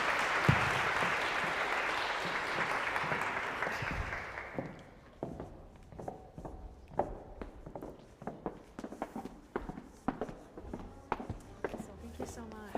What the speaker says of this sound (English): One more round of applause for Sylvia, please.